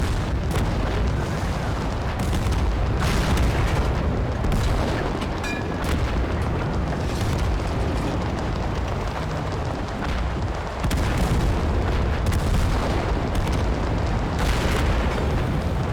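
Dense, continuous gunfire and booming explosions from the Total Conflict: Resistance war game, loud and sustained with repeated bursts and no talk.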